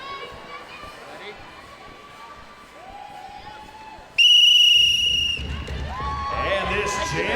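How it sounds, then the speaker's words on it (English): A sharp, piercing whistle is blown hard to start a roller derby jam, a bright blast lasting about a second over a noisy arena crowd, followed by skates rumbling and general crowd clamor. "Blow the whistle as hard as you can"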